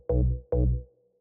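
Layered synth bass line from a remix of Free Your Mind by Prospa & Cloonee: two deep, loud sustained bass notes in quick succession, each ringing out and fading, with nothing else playing.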